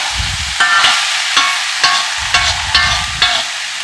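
Cabbage and carrots frying in a skillet, with a steady close sizzle broken by about seven sharp scraping stirs at roughly half-second intervals.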